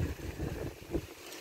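Strong wind buffets the microphone outdoors on a hunting trip, low rumbling gusts that swell and fade unevenly over a short moment, with no talk.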